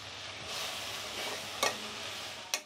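Washed poha, flattened rice, tipped into a hot pan and stirred, giving a soft sizzling hiss with two sharp utensil clinks near the end, close and without talk.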